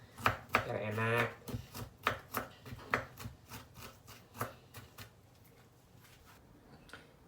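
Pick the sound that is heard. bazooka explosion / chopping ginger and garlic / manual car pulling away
chopping ginger and garlic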